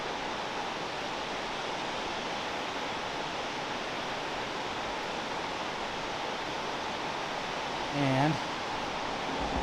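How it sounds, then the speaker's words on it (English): Gorge Creek waterfall in the North Cascades roars as a steady, dense rush of falling water, constant and fairly loud throughout, with a brief voice near the end. "See the waterfall up there,"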